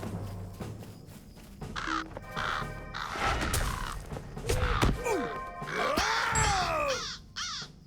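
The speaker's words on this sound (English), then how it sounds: "I'm finishing off a couple birds." Birds caw harshly in The Lord of the Rings Online, a string of loud, close calls and squawks repeating over a busy layer of game effects.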